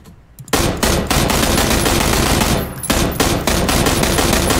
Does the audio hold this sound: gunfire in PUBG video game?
yes